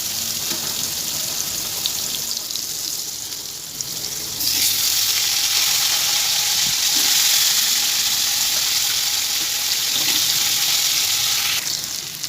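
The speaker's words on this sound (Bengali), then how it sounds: "আর আমি এখানে আলু ছেড়ে দিলাম" Potatoes fry in hot oil in a pan, seasoned with turmeric and salt, for an egg, cauliflower and potato curry: a steady close sizzle that turns louder and denser about a third of the way in, with no talk.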